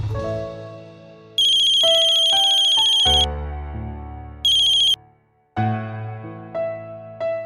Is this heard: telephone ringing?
yes